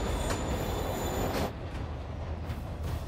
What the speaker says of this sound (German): Der Zug bewegt sich.